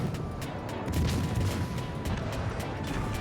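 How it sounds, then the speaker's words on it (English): Naval guns fire armour-piercing rounds in a World of Warships Legends ranked battle: a dense, continuous barrage of booming shots and impacts over a heavy low rumble, with no speech. "AP rounds from the Vima, so nasty"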